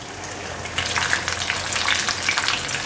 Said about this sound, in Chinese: 现在先让它炸定型